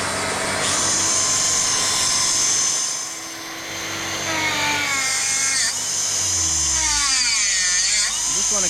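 A grinder sharpens a sawmill blade tooth on a mobile dimension sawmill, giving a loud, steady high whine with shifting tones as the grinding wheel swings in and out, and a lower motor hum underneath.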